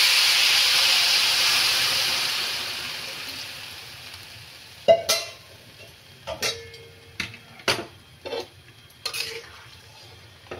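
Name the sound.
hot water poured into vegetarian polao, hissing steam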